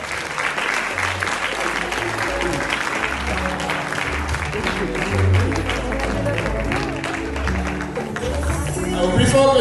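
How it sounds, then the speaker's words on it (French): An audience applauds continuously for a flag bearer and team captains at an event, dense clapping mixed with crowd noise and background music, growing louder toward the end while a voice talks over it. "plus fort que ça, les applaudissements pour notre porte-drapeau"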